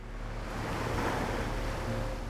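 Cold Alaskan river current where king salmon are fished, a dense rushing wash of water that holds steady and loud throughout, with no voices over it.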